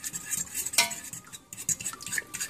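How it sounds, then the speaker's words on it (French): A fork beats eggs in a bowl for a chicken pastilla, making quick metallic clinks and scrapes in uneven bursts, fairly faint and close, with no voices. "Et on va mélanger. Avec une fourchette, ce que vous voulez."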